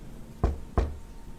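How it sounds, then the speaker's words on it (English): Two light, quick knocks on a door, close and dull, evenly spaced in an otherwise quiet room. "A light knocking sound on the other side of the house."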